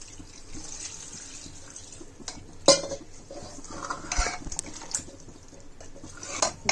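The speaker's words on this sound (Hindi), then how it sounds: "अब इसमें पानी डाल देंगे हम थोड़ा सा।" Water splashes into a pot of chopped jackfruit curry in a home kitchen, with clattering utensils, sloshing and a sharp metal clink, intermittent and close by.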